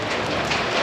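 Rain pours steadily outside a barn during a tractor show gas-up, heard from shelter inside as a loud, dense hiss of drops drumming on surfaces throughout a short moment.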